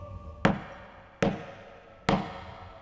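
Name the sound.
knocking on a bedroom door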